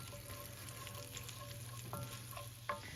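Onion and garlic with half a teaspoon of turmeric fry in a pan for a potato and cabbage curry, giving a quiet, steady sizzle with a few soft clinks near the end.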